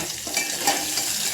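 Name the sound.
onions frying and being stirred in a pan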